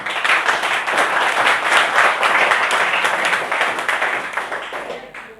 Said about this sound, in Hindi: ताली बजाओ प्लीज छोरे के लिए, जोर से जोर से